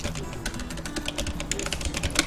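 Numbers and the Enter key are typed on a computer keyboard while working in AutoCAD, a quick run of crisp, close keystroke clicks in an uneven rhythm, with no voice.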